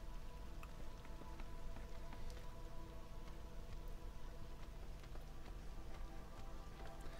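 Light drizzle falls in the video game Against the Storm, a soft, even patter of raindrops with occasional brighter ticks, steady and unbroken throughout, with no voices.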